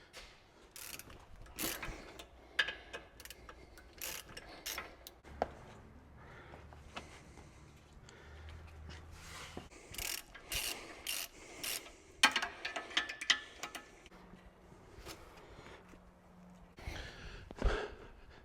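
A tool working the steering stabilizer on a Jeep Gladiator, with intermittent ratcheting clicks, metallic clanks and scrapes at close range, plus a few sighs and breaths from the person working.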